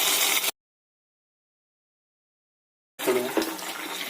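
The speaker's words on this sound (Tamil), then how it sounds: "தண்ணி ஒரு 1/4 டம்ளர் ஊற்றிடலாம்." About a quarter tumbler of water splashes and trickles steadily into potato Manchurian sauce, broken by a stretch of silence, with the pouring close and fairly loud.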